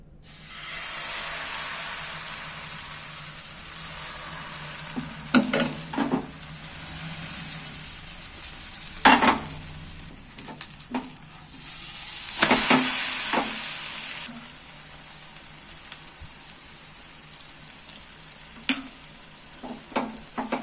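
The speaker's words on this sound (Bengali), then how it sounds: "এইভাবে আমি সবগুলোকে ভেজে নেবো একটা একটা করে।" Egg and potato pieces fry in a pan with a continuous soft sizzle, punctuated by sharper crackles and spatters as pieces are stirred and turned, with no talking.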